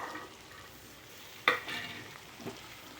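Potatoes and peas frying in a pan for a Chettinad-style potato fry, heard as a soft low sizzle with one sharp utensil scrape and a fainter second stir a second later.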